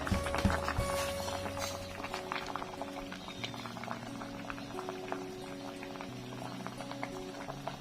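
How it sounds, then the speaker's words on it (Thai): Fish simmering in water in a pot, a steady dense bubbling with frequent small pops and crackles, moderately close and continuous, with a faint low hum underneath and no talking. "เอากะน้ำลงไปต้มครับ ผมปิดปลาไว้ ต้มจนกว่ามันเปื่อยผลละครับ"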